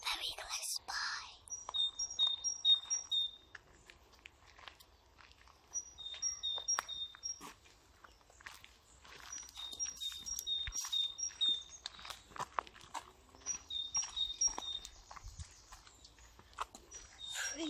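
Small birds chirp in repeated short bursts in a quiet woodland. The calls sound moderately distant over soft rustling and whispered voices, with a few seconds of calm between each bout.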